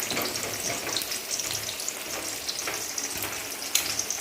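Small pumpkin pieces frying in a pan give a bright, continuous sizzle with occasional stirring scrapes and crackles, close and steady.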